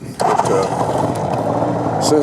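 A 1972 Suzuki GT750 motorcycle engine idles steadily and smoothly at close range, a continuous even running sound with light mechanical chatter throughout.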